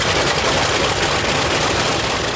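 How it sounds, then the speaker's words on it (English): A Corsair aircraft's piston engine idles with a dense, steady roar, loud and close, carrying a constant low rumble and heavy broadband noise with no pauses or voices. "when it idles, it'll actually shake the landing gear off the ground"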